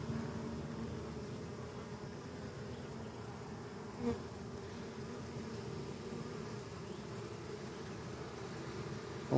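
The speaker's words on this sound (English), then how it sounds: "So we're going to give these bees a chance." Bees buzz around a hive in a steady, dense hum, continuous and moderately close, with one brief tap midway.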